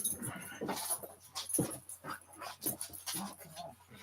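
A dog whimpers and pants in short, uneven bursts, fairly close, with soft high whines between breaths.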